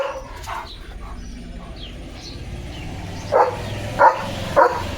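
A few short German Shepherd barks near the end, spaced about half a second apart, over faint background noise and distant bird calls.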